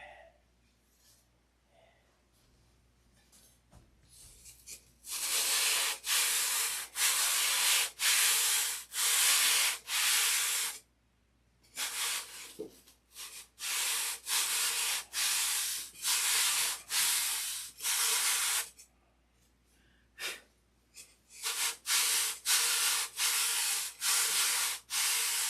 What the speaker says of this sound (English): sand it up